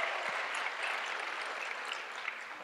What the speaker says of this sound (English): can you like cheer for our organizers as well